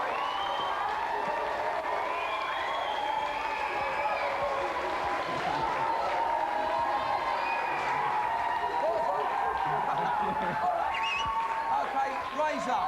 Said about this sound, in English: Let's have a big round of applause for both of our contestants